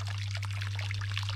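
Pump discharging sludgy water from an old well, a continuous close splashing gush over a steady low motor hum, with no talk.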